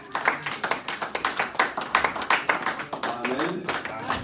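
A church congregation at a Sunday service claps in a steady, rhythmic beat, close and lively, while a voice carries on over the clapping.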